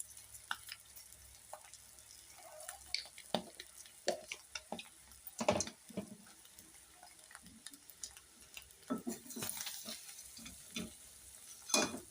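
Small eggs fry in a pan with a spoonful of garam masala stirred in, giving a steady soft sizzle broken by scattered clicks and scrapes of a spoon against the pan, close and fairly quiet.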